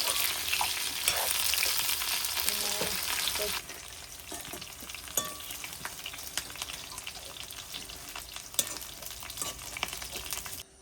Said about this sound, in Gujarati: એને થોડીક વાર લાલ થાય ત્યાં સુધી ફ્રાય થવા દેવાનું